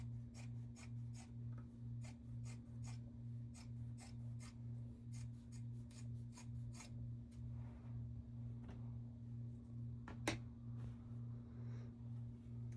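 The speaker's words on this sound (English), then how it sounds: "I'm going to cut them together." Two bandanas cut together through the fabric layers: a long series of quick, regular snips, about two or three per second, faint and close, over a steady low hum, with one sharper click near the end.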